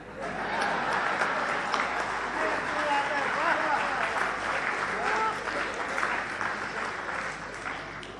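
Audience applause at a public speech, a sustained crowd clapping that runs steadily throughout with voices mixed in underneath.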